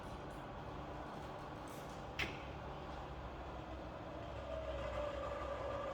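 A rebuilt Bridgeport milling machine with a 42-inch table idles at 120 RPM in low range, giving a quiet, steady mechanical hum with a single brief clack and a faint tone that rises toward the end.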